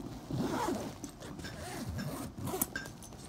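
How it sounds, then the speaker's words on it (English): Zipper on a Lug Puddle Jumper travel bag being drawn closed, a close, continuous rasping zip of several strokes with soft handling noises in between. "And it zips all of the way up."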